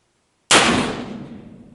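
A single muzzleloader shot that felt like a hang fire, fired at the range: one loud, sharp blast that starts abruptly after silence, then decays slowly into a long rumbling tail.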